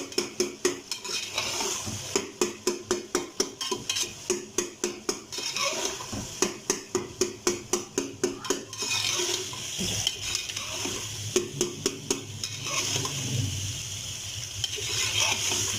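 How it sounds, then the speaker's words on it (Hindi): A metal spoon taps and presses rhythmically against a dish, a quick series of clinks as soft roasted eggplant is mashed, then slower scraping. "थोड़ा चम्मच की मदद से हम इसको कूट लेंगे, इसकी कुटाई करेंगे"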